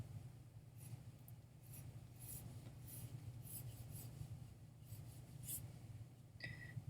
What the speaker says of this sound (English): So now what I'm going to do is I'm going to draw across.